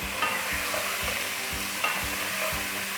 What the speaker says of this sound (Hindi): तो इसको अच्छी तरह भून लेते हैं ताकि इसकी स्मेल ख़त्म हो जाए।